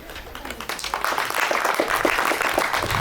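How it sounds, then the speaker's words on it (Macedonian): Audience applause for children at an end-of-year school performance, a dense crowd clapping that builds over the first second and holds steady and fairly loud throughout. "Аплауз за децата."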